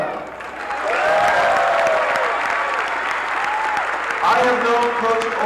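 A room full of people applauding steadily at a boys' high school basketball game, a sustained wash of clapping with a voice speaking over it.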